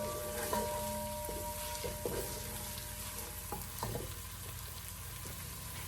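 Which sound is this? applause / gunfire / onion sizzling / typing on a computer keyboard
onion sizzling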